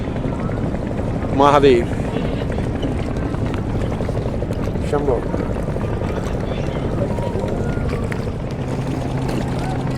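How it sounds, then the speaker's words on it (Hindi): Helicopter ride over Triveni Sangam at Prayagraj during the Maha Kumbh, a steady rotor and engine drone filling the whole stretch, with a brief voice calling out near the start and more speech over the hum. "मैंने ध्यान रखा था हेलीकॉप्टर की राइड लगभग 4 मिनट की है"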